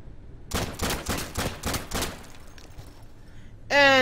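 Gunfire in the video game Day of Infamy, a rapid run of about seven sharp shots at a steady pace, loud and close, followed by a brief burst of louder noise at the end.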